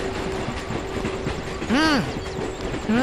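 A train rolls through with a steady rumble and a low hum, then a horn sounds twice in arching, bright blasts near the end.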